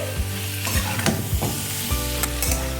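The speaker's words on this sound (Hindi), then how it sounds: "अब हम इसमें डालेंगे सारी फ्राई की हुई सब्जियां और अच्छे से मिक्स करेंगे।" Fried vegetables are stirred into a sizzling spice masala in a pan, with repeated scraping thuds of the spoon over constant frying hiss; no voices.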